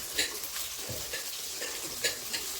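Chillies sizzle steadily in a hot pan for a country chicken dry curry, with a few sharp scraping stirs of a spoon against the metal cutting through the constant frying hiss.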